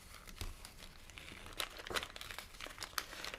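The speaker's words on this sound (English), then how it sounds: "Just peeling this back, just like so. We're just peeling it back." Cricut craft vinyl being peeled away from its backing sheet, giving a steady crinkly crackle with small bursts of tearing, close and fairly quiet, with no talk.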